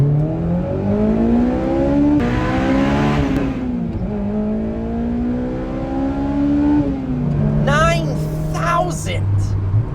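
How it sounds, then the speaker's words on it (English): A 1999 Honda S2000 engine revs toward 9,000 RPM, climbing and falling in pitch repeatedly, loud and close, with a sharp squeal-like whine near the end. "the best part about that engine is that it revs"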